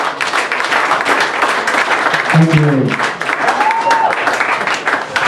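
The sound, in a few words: audience applause at a comedy roast battle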